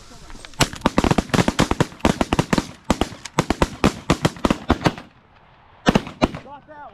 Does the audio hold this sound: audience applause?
no